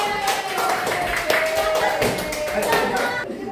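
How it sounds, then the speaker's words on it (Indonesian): A school group of teachers claps for a group presentation, a steady, close ripple of hand claps lasting a few seconds with voices mixed in. "Kita kasih aplaus ya."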